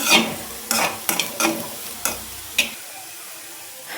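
Bitter gourd frying in a pan, a low sizzle broken by several sharp scraping clacks of a spatula in an uneven rhythm, then fading to near quiet near the end, with no talking.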